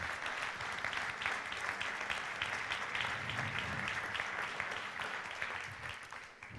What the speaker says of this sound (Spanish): dale, aplaude al Señor